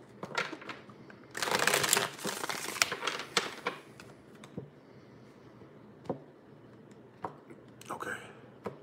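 Tarot cards are shuffled close by, a quiet run of papery riffles and taps with a louder burst of crinkly shuffling early on, then scattered soft clicks.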